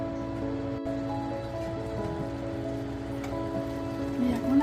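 Milk poured a little at a time into a hot pan for egg and milk borfi, giving a steady soft sizzle with fine spattering crackles that swell near the end, with no talking over it.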